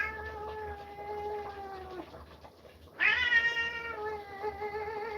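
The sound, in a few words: old grumpy cat meowing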